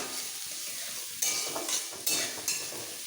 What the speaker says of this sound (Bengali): ক্যাপসিকাম খুব বেশি ভাজবো না